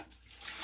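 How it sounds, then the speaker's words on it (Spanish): Water poured into a container for making pineapple limbers, a brief close splashing rush that grows louder, with no voices. "Voy a echarle el agua."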